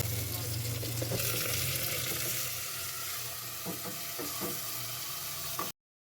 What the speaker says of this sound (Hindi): अब जी मैं अदरक लहसुन का पेस्ट डाल रहा हूँ। इसके बाद मैं फौरी ये इसको फ्राई करूँगा।